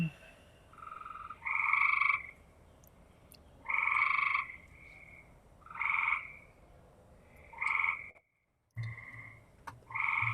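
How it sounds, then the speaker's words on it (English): Frogs croaking at night in repeated bursts of chirping calls, each lasting about a second with short quiet gaps, fairly close and clear against a low background hum. "you have this frog chirping right now is kind of mild compared to how some nights it is"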